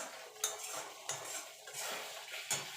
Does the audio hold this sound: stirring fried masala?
yes